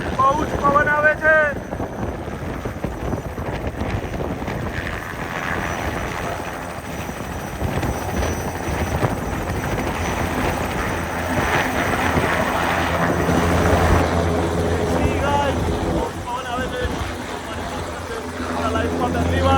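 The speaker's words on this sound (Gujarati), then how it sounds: "લાઈફમાં પહેલી વાર હેલિકોપ્ટરમાં બેઠા છે" A helicopter ride over Niagara Falls: the rotor and engine drone continuously with heavy wind buffeting the microphone, while voices talk over it throughout.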